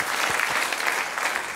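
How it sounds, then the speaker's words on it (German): A studio audience at a German television talk show claps steadily and densely for the whole moment, a full, even round of applause with no voices. "man darf klatschen"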